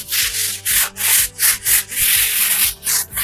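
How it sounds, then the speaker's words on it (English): A wall being dusted down before skimming during house painting, heard as steady rhythmic brushing or rubbing strokes, about two per second, loud and close with no talk. "So first thing I want to do is that I want to dust the wall."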